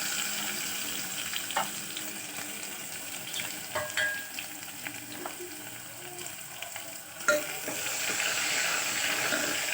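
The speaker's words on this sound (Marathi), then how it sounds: "लसूण जरासा खरपूस भाजला की, म्हणजे लालसर जरासा लाल झाला की" Garlic frying in a pan with curry leaves, a steady soft sizzle with occasional crackles and a stir or two, close and alone with no voices.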